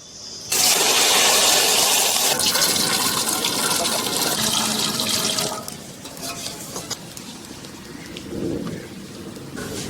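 Boiled jamun fruit liquid poured through a strainer in a village kitchen, a loud, steady rushing splash for about five seconds that then eases into softer trickling and dripping.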